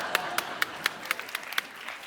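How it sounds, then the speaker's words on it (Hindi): A live comedy show audience claps in a light, scattered way, with about a dozen distinct handclaps spread over two seconds, thin and fairly quiet, with no voices. "तालियां!"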